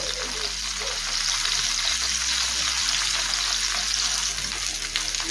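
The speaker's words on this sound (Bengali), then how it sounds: "হালকা ব্রাউন করে পনিরের পিসগুলো ভেজে নেব।" Paneer pieces fry to light brown in a little oil in a frying pan, making a loud, continuous, close sizzle with no break.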